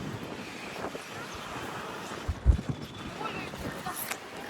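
Strong wind roars and buffets the microphone in steady gusts, with a sharper thump midway and faint voices mixed into the rush.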